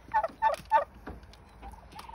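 Turkeys on a small Romanian farm that keeps pigs and poultry gobble in three loud, rapid bursts close by, followed by softer trailing calls.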